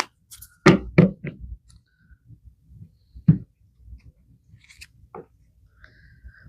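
Tarot cards riffled and tapped in a few sharp, close bursts, followed by softer scattered shuffling noises and brief pauses.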